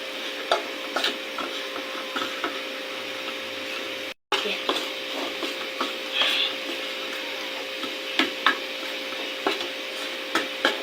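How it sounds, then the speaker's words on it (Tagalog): Heavy cream and milk are stirred together in a bowl for a chocolate banana cake, a soft, steady scraping and swishing with small clinks, close by under a steady background hum. "Haluin lang natin."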